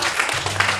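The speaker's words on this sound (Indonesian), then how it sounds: "Nah, tepuk tangan dulu lah." Brief burst of audience applause in a training session hall, a dense patter of many hands clapping together that fills the short moment.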